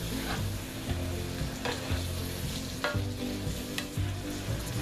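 Ingredients for turkey meatballs and marinara, with garlic just added, are stirred in a hot pan: a steady close sizzle with periodic spoon scrapes and knocks, no talking.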